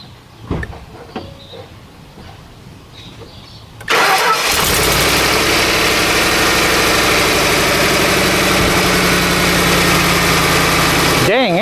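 A Ford F-150 truck engine cranks and catches almost instantly after a few quiet clicks and handling noises, then settles into a steady, loud, close idle that runs unbroken to the end.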